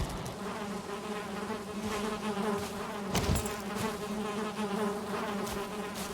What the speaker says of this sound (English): Okay, the other bees are happy. We got 2 beehives.